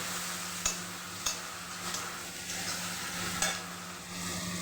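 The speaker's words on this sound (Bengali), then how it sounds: "এদিকে মশলাটা কষানো হচ্ছে" Garlic and ginger paste masala frying in a pan for chickpeas, a low steady sizzle with a few sharp scrapes and clinks of a spoon stirring at regular intervals, close and alone.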